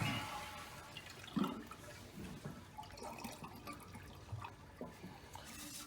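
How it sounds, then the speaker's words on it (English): Toilet flushing with the handle held up so the tank drains fully during a ballcock fill valve replacement, with rushing, gurgling water at moderate level and brief drips and splashes. "I just go ahead and flush it and hold the handle up so that all the water drains that we can possibly get out of there drains out."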